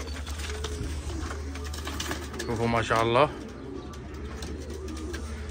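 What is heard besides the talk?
pigeons cooing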